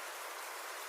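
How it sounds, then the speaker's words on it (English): Gentle rain falls outside on a rainy afternoon, a dense, even patter of drops spread across surfaces, steady and close with no voices. "when the rain falls gently outside and the world slows down"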